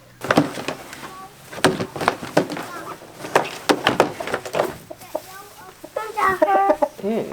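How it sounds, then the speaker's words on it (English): A rooster clucks in short bursts close by, with people talking over and between the calls. "That's a rooster."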